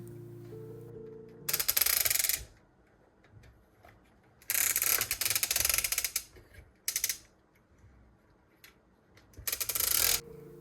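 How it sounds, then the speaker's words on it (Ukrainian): A portable rechargeable battery fan swivels its head left-right and up-down, giving three or four bursts of ratcheting, clicking mechanism noise separated by quiet gaps, close and alone. "основна частина вентилятора повертається вліво та вправо, а також може обертатися догори і донизу"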